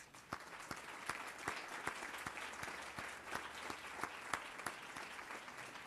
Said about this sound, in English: You need to give him a round of applause.